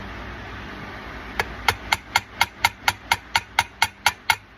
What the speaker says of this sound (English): And lightly tap on it. That's a 3-ounce ball peen hammer.